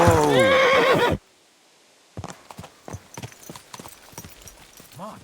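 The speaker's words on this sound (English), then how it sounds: "Looks like a bloody expensive horse." A horse gives one loud, close whinny. After a short silence, its hooves clip-clop in an uneven rhythm, and a faint voice comes in at the very end.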